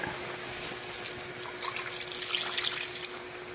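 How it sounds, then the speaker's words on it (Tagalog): Thick coconut cream is poured into a pot already holding small anchovies and dried scad, making a soft, continuous, watery trickle at low volume, heard alone for a few seconds. "Ilagay na natin ang kakang gata."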